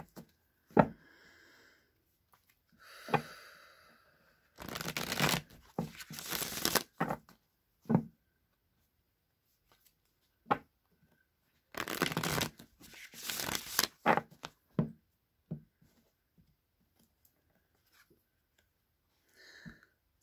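Tarot cards shuffled and drawn from a deck during a reading, with quiet intermittent bursts of riffling and sliding cards separated by near silence.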